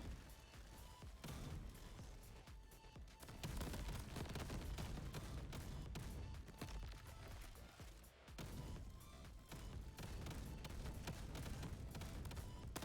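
Grenades exploding in Crab Champions, a dense, loud barrage of rapid blasts and crackling gunfire-like bursts filling the whole stretch without pause.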